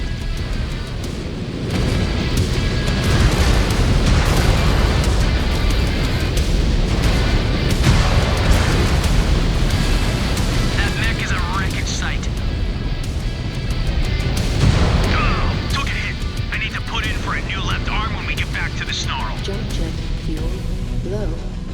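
Incoming missile explosions in MechWarrior 5: Clans, booming blasts and rumbling impacts over dense combat noise, with a synthetic cockpit voice issuing warnings over the din for most of the stretch.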